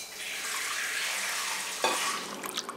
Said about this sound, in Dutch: Roer het water meermaals om